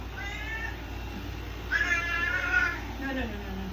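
A cat meows several times nearby, with a drawn-out, louder call in the middle, over a steady background hum and occasional talking.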